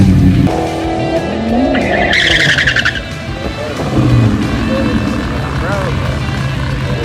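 A drag race car at the track in a 12.0 index class, its engine roaring loudly up close with tire squeal and rising revs, while people talk over the noise.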